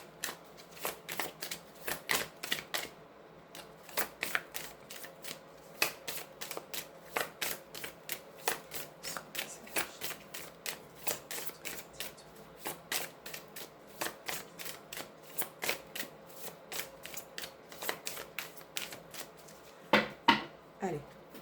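Tarot cards shuffled by hand in rapid, crisp riffling bursts with short pauses between them, close and fairly quiet, with no one speaking.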